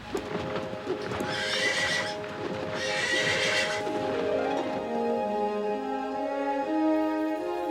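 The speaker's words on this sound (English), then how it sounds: "And a horse with wings came galloping, neighing wildly, just as in the dream." A winged horse neighs wildly over galloping hooves, and the whinnies rise and fall loudly as the hoofbeats carry on beneath them.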